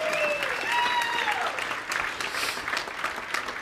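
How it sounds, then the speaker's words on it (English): An audience at a business seminar claps loudly and steadily, a dense burst of applause with a few whistles near the start, gradually thinning toward the end. "Let's go ahead and give them all another round of applause because they're awesome."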